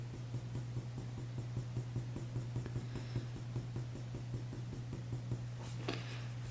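A sharp pencil scratches across paper in quick, regular strokes, close and quiet over a steady low electrical hum, with no voice.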